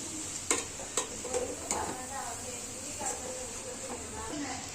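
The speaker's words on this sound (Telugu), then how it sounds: "ఒక పాన్ పెట్టుకొని బాగా ఇలా గ్రేటెడ్ పంప్కిన్ ని వేసుకొని బాగా మిక్స్ చేసుకోవాలి" Grated pumpkin stirred with ghee in a pan for pumpkin halwa gives soft scraping strokes at irregular intervals over a faint steady sizzle, while a person talks nearby.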